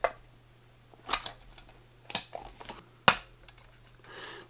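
A 1950s Nixon (Gerlach) Nixette medium-format folding camera for 120 film is opened, giving a few sharp, close mechanical clicks and snaps spaced about a second apart over quiet background.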